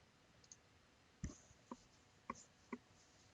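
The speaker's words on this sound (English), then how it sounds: "I'm going to click submit." A computer mouse clicks on a submit button in an options trading screen: a few faint, sharp clicks spaced irregularly over a few seconds, with one slightly louder click among them against quiet room tone.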